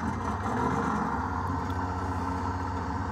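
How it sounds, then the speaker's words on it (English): Aircraft engine starting in a flight simulator on an airliner flight deck setup: a steady mid-pitched engine drone with a faint clattering edge, continuous and fairly loud throughout with no talk. "let's start an engine"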